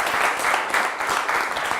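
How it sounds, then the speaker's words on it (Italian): A studio audience at a Friulian quiz show applauds, a dense, steady burst of many hands clapping close and loud, with no talk over it. "allora vi fate un applauso"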